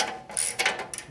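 A part on a 1973 Harley-Davidson shovelhead 74ci custom bobber is loosened with a tool, making a short burst of close, loud metallic ratcheting clicks and scrapes.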